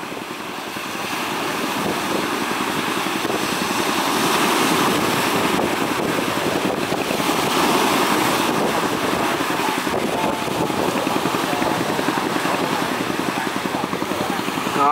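Barge running with following waves at sea, a steady loud engine drone mixed with heavy wind buffeting and rushing water, building slightly over the first seconds and holding constant.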